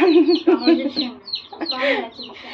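A hen clucks repeatedly in short, close bursts, with soft chirping and faint background voices mixed in.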